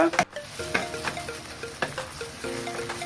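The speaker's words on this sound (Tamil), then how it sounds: "போட்டு நல்லா கிண்டி விடணும்" Onions, tomatoes and curry leaves fry in a pan, sizzling up close while a spoon stirs them in quick scraping strokes.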